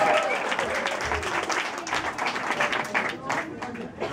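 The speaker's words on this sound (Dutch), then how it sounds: "Applaus voor jezelf een keer." A live show audience applauds steadily, dense broadband clapping mixed with a few crowd shouts, sustained at a moderate level throughout with slight swells and no distinct speech on top.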